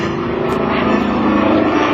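A Pitts Model 12 aerobatic biplane's engine drones loud and steady as it flies an eight-sided loop at an airshow, a throbbing propeller roar that holds throughout.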